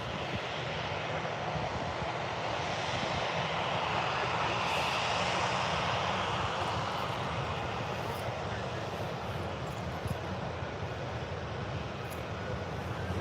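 A jet airliner at Birmingham airport makes a sustained, broad engine roar for over ten seconds, steady and fairly distant, with a voice heard intermittently over it.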